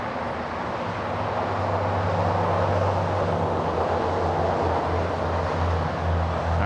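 A Boeing 777 cargo plane taxiing at LAX, a loud continuous engine rumble with a steady low drone and broad whine, building slightly and holding steady without talk.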